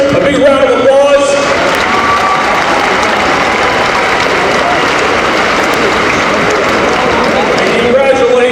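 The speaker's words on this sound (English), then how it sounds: "give all these volunteers and players a big round of applause" Audience applause for volunteers and players at a Christmas high school basketball tournament championship, a steady broadband clapping wash that holds for several seconds, with a voice over a public address system at the start and the end.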